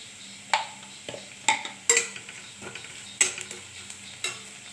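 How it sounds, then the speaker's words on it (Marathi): Cumin seeds, mustard seeds, turmeric and green chillies fry in hot oil for a vegetarian thali. A quiet sizzle sits under sharp clinks and scrapes as a spoon strikes and stirs the pan. "हिरवी मिरची टाकली मी तेलामध्ये।"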